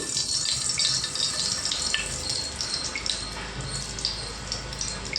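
Mustard and fenugreek seeds sizzling in hot oil for Krishna district style gongura pickle, a steady bright crackling hiss with faint pops throughout.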